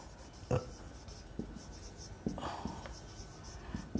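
A pen scratches on paper in short strokes and taps, faint and close, with pauses between marks in a quiet room.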